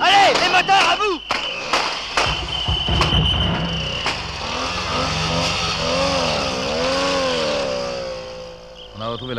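Car engines rev and roar away as a sound effect in a French audiobook, accompanied by gunshot-like cracks and a wavering whine, with a voice speaking over the start and the engines droning steadily afterward.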